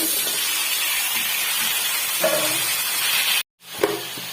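Pumpkin and potato pieces fry in hot oil with a continuous close sizzle and hiss. The sizzle cuts out briefly near the end, then returns.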